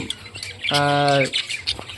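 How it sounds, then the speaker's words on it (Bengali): A single harsh, buzzy squawk from a classic budgerigar lasts about half a second, framed by faint chirps and chatter nearby. "এটা একদম পিওর বাজিগার পাখি অর্থাৎ ক্লাসিক বাজিগার পাখি"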